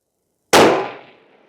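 A single rifle shot from a Ruger American Ranch Gen II 5.56 strikes a small distant steel gong, giving one sharp loud crack that rings and decays over about a second, with no talking.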